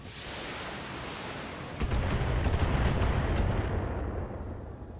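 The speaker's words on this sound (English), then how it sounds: "In this vehicle, we're gonna get some missile spam" A vehicle in Battletech launches a missile barrage, a steady rushing roar that swells into a heavier rumbling volley with several sharp cracks, loud and sustained.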